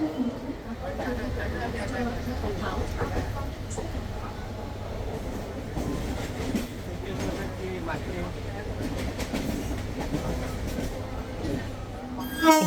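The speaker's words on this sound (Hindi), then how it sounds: "अब हमारी ट्रेन आ रही है।" The Paschim Express rumbles in at a station platform with a continuous low rolling drone and faint clatter, heard amid steady crowd and platform noise with people talking.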